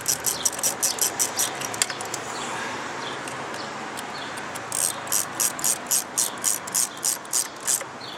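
A hand ratchet clicks in quick bursts while tightening a spark plug on a 2010 Nissan Sentra, sharp close-up rhythmic ticking at the start, a quieter stretch, then a steady run of evenly spaced clicks at the end.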